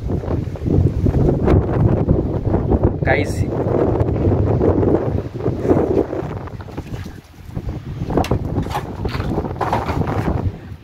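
Strong wind buffets the microphone with loud rumbling gusts throughout, while a person speaks briefly over it.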